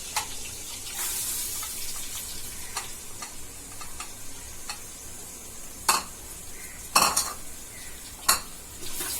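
Chopped onions frying in a pot with cardamom for goat's leg kurma: a low sizzle under light stirring, with several sharp metallic clinks of a spoon on the pot toward the end.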